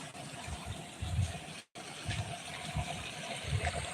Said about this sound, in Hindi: ये देखिए दोस्तों, कितना अच्छा पानी चल रहा है।